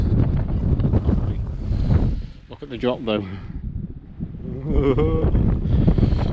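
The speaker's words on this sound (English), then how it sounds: "it is very windy" Gusty wind buffets the microphone in a steady low rumble on Stiperstones hill while a person talks over it.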